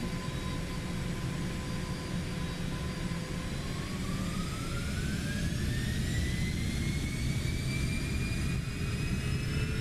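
Twin jet engines of a Cessna Citation C750 in X-Plane 12 spool up to takeoff power, a steady loud roar with a whine rising in pitch partway through, continuous and unbroken, with no talk over it.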